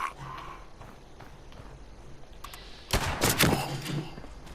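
A few scattered gunshots in Fallout 76, faint at first, then a louder cluster of shots near the end, with no speech over them.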